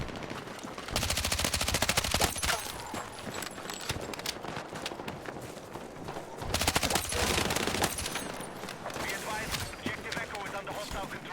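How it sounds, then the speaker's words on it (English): Shotgun fire in the Battlefield 6 video game, fired in two loud bursts of repeated blasts separated by a quieter stretch of mixed game noise. "The shotgun shot after shotgun shot is too fun."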